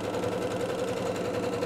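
Sewing machine stitching trim onto a shabby chic Christmas stocking, a fast continuous mechanical whirr with rapid needle ticking, steady and close throughout the short stretch, with no voice.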